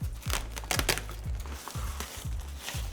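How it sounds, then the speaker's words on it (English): A plastic bag that held lighting diffusion crinkles and crackles in a series of rhythmic crumpling bursts, close and moderately loud, with no voices. "The diffusion came in a plastic bag which immediately tore"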